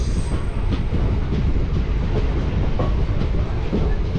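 Haldibari to New Jalpaiguri local train, number 55752, running along the line: a close, continuous rumble and rattle of the carriages with no voices.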